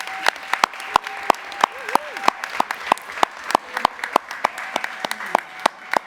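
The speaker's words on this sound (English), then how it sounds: "So let's give them a round of applause." Audience applauding educators at a school board meeting, with sharp individual claps standing out over a steady wash of clapping for about six seconds, with faint voices underneath.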